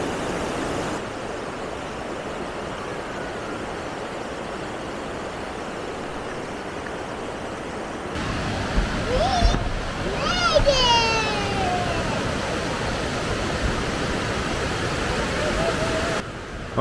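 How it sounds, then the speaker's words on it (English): Two huge waterfalls roar as a steady, broad rush of falling water, loud and close and filling the whole stretch, with faint voices and brief sounds picked out over the constant wash. "there are two huge waterfalls here"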